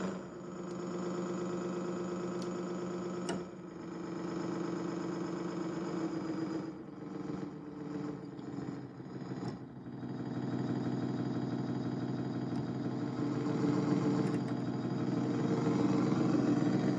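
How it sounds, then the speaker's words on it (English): A steady, continuous helicopter drone with a low throbbing engine rumble that holds at an even loudness throughout. "Let's see what the helicopter sounds like."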